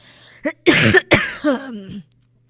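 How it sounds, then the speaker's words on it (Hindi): A person coughs several times in quick succession, close and loud, in a short, harsh fit before falling quiet. "बहुत खांसी आ रही है"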